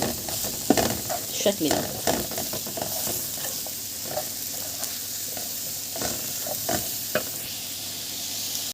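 Mushrooms stirred and frying in butter in a pan, a steady sizzle broken by scraping stirs and clacks of the utensil, close and fairly loud, with a few brief spoken words.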